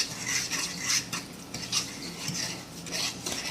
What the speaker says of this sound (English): Stir this in really good.